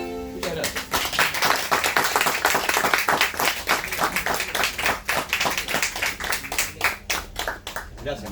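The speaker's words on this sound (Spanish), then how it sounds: "Fuerte aplauso." Audience at a book presentation for a children's adventure book breaking into strong applause, dense rhythmic clapping close by and sustained for several seconds, with a voice briefly heard.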